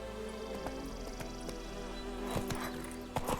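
Geralt's horse Roach moving in The Witcher 3, hooves clip-clopping in an uneven rhythm at moderate distance over a steady background hum, with a few sharper hoof strikes near the end.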